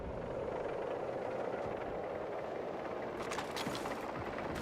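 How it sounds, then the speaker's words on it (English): An enemy helicopter in a military video game gives a steady, loud rotor drone that fills the scene, with brief crackles of distant gunfire near the end. "Contact enemy helicopter!"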